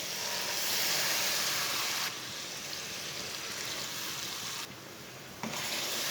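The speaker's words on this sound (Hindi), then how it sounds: "दो कप पानी डाल लेंगे।" Two cups of water poured into a pan of frying lentils and spinach, a loud continuous rushing hiss and gush lasting several seconds with brief dips in level, no voices.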